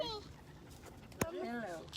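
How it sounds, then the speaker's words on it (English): A small dog whines and pants close by in short, soft bursts while people talk over it. "oh, a little doggy"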